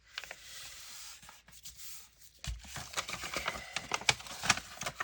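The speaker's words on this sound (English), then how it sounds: "I'm going to fold this in half" A sheet of printed map paper folded in half for a junk journal page, with crisp rustling and creasing followed by a run of sharp papery rubs and taps close by, no speech.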